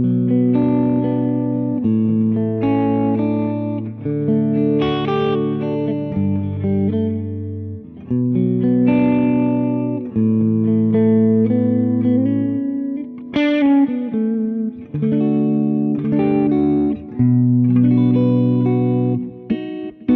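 A clean electric guitar on the humbucker neck pickup, tone knob set around 3, plays a flowing chord progression with picked notes and light reverb for about twenty seconds, close and alone.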